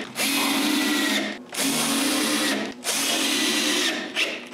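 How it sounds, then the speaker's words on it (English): Power drill boring holes in a solid pine pantry shelf, three loud sustained whirring runs of about a second each separated by short pauses, with a brief fourth burst at the end. "I drill the holes for the central shelf and put the screws."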